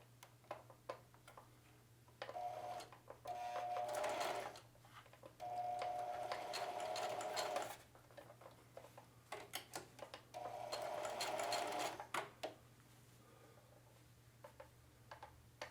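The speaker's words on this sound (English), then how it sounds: "I'm going to have to start and back tack again." A sewing machine back-tacks the pocket of a pair of muslin jeans in three steady mechanical runs of a few seconds each, separated by short pauses with faint clicks.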